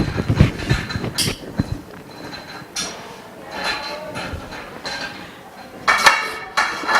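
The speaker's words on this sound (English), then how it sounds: "Put it on the longest one and tighten it by using the tool." A hand tool tightens small metal parts, giving light clinks and knocks in irregular bursts at close range, with quieter handling noise between them.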